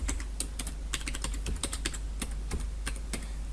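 Quiet, close keystrokes on a computer keyboard while a password is entered, an irregular run of light clicks over a low steady hum, with no voices.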